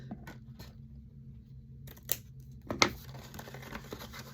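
Scissors trim scrapbook paper for a handmade gift bag, giving a couple of crisp close snips with light paper rustling between them in a quiet room.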